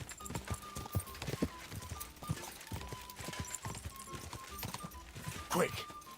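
Hooves of a galloping horse in a video game clip-clop in a rapid, uneven rhythm, close and fairly loud, with occasional short neighing or snorting sounds near the end.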